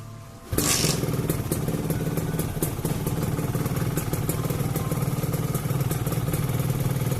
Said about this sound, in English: Now I can hear my engine.